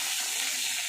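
Onion frying in hot oil for a Bengali fish curry, a dense, close, steady sizzle with no break, heard alone.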